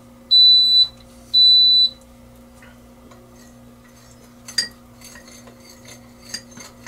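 An electric pressure cooker, used for short ribs, gives two long, clear electronic beeps as sauté mode starts, followed by a quiet hum and a few light clinks and ticks nearby.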